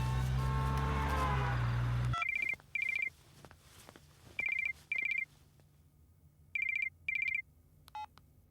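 A telephone ringback tone sounds during an outgoing call: after a loud burst of dramatic music cuts off, three pairs of short electronic ring bursts repeat at steady intervals over a quiet background, followed by one faint lower beep.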